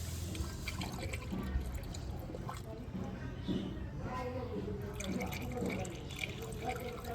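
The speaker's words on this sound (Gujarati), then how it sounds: "હાલ તો કુલરમાં રેડિએટર એમાં પાણી નાખું છું" Water splashes and gurgles steadily as it is poured into a broken-down car's radiator, with engine-like hum and background noise throughout.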